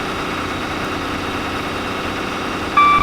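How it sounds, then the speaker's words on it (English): A train engine idling in Train Simulator 2018 on the North Wales Coastal line, a steady mid-to-low mechanical rumble with vibration, constant and close, with a small bump in level at the very end. "Engine start and stop does work, actually"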